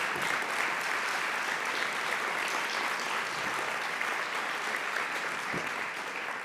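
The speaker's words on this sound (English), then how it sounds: "please join me in giving Ted a big round of applause for his leadership" A large conference audience at a general session gives a sustained round of applause to honour a leader, dense even clapping that holds steady for several seconds, with no talk over it.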